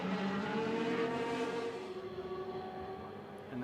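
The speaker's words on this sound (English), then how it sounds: "Audi number 2, Alan McNish, now chasing down the Toyota ahead of him" Endurance race cars, including Audi, Toyota, Aston Martin and Porsche entries, roaring around Silverstone during the 2012 six-hour WEC race: a loud, sustained engine drone that holds steady, then thins as a car pulls away, with no talk.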